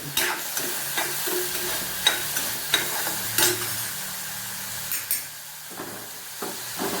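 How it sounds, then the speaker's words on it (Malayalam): A steady sizzle and hiss from a hot pan as coconut dry-roasts, with occasional scraping and clinking as a spatula stirs, close up and without voices. "തേങ്ങ വറുത്തെടുക്കണം നമുക്ക്."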